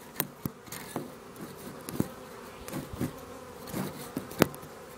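Honey bees buzz steadily around an opened hive during a hive split, with many individual bees zipping close past the microphone in quick, irregular passes over a constant low hum.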